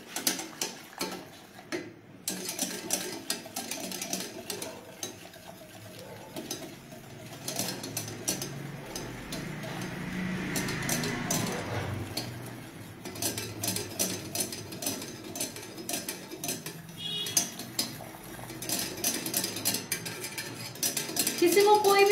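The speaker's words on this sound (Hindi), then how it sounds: "ये डालने के बाद मैं कंटिन्यूसली अब विस्क से इसको" A whisk beats a sauce in a bowl without stopping, a steady stream of close metallic ticks and scraping clatter that runs for over twenty seconds with faint background noise.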